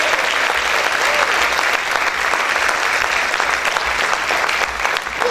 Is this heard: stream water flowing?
no